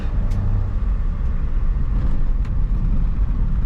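A 2005 Perodua Kembara 1.3 EZ DVVT automatic drives along with a steady, loud engine and road rumble throughout, a few faint high squeaks over the top.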